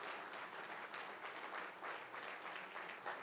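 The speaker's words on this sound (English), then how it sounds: "A big applause for our young delegates here" Sustained audience applause for young delegates at a conference session on multilateralism, steady, even clapping that continues throughout at a fairly quiet, somewhat distant level.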